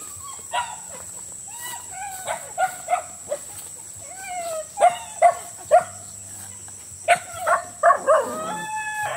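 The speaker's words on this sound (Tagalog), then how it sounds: "So, umiiyak yung mga aso ko." Shih tzu dogs whining and yelping in short, repeated high-pitched cries, eager for their owner, with low voices talking faintly in the background.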